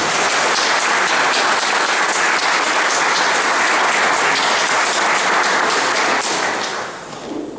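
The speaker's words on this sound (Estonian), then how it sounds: "kõigepealt teeme siis nendele ühe kõva aplausi" Loud, dense applause from a crowd at a folk rally event honouring the organisers, a steady wash of clapping that holds for several seconds before thinning out near the end.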